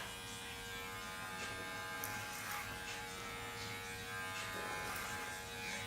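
Electric hair clippers buzz continuously through hair while cutting a textured Eurohawk, a close, steady hum with small shifts as the clipper moves over a comb.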